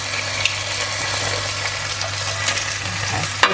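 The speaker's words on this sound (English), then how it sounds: "we're just browning it with a bit of colour" Lamb browning in a hot pan with rosemary and garlic gives a steady, close sizzle and crackle of frying that holds evenly throughout, with a few sharp spits and no voices over it.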